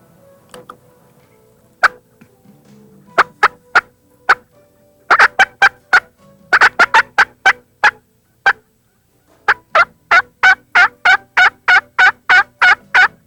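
A wild turkey tom in the spring woods gives repeated loud gobbles in bursts of rapid, sharp notes, with brief pauses between calls and a long final volley.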